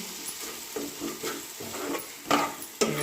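Fried eggs are stirred into drumstick curry in a pan, with a spoon scraping in repeated slow strokes over a low sizzle, ending in two sharper, louder scrapes against the metal.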